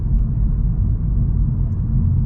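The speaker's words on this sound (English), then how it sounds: "you do hear a little bit of road noise with the tires" Steady low road rumble from the tires inside a 2023 VW Golf GTI cruising in comfort mode, a constant muffled drone with no talking over it.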